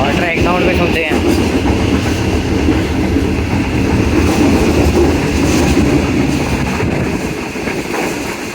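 The Shalimar Express runs on its tracks near Farrukhabad, heard from on board as a loud, steady roar and rumble with a rhythmic clickety-clack of wheels over rail joints, continuous and close throughout.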